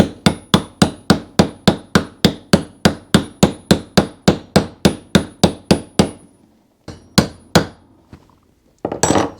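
A wheel bearing is hammered into a Yamaha Tenere 700 wheel with a socket as a driver. About twenty sharp, evenly spaced metallic blows ring out close and loud, followed by a brief pause and a few slower final taps.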